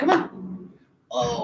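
Seven-month-old puppy named Buddy gives a short yippy bark, then a brief whine after a pause, close up, with a person talking briefly over it.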